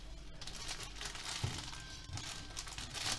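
A plastic freezer bag crinkles and rustles close up in soft, irregular bursts, with faint scraping and kitchen handling sounds during cucumber pickling preparation.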